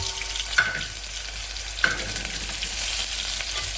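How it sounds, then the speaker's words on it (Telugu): Dried red chillies and ginger garlic paste fry in a small pan with a steady close sizzle, broken by two sharp metallic clinks from stirring. "అల్లం వెల్లి పేస్ట్ కొద్దించాను కదండి"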